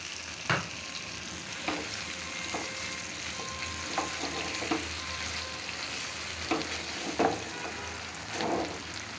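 Taro leaf (kochu shak) curry, pre-boiled greens, frying in a pan on a home stove, with a steady low sizzle under scattered stirring clanks and scrapes of a utensil against the pan.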